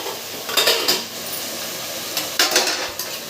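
Banana flower with chilli powder and curry masala is stirred in oil in a pan, with a few distinct scraping strokes of a spoon over a faint, steady sizzle.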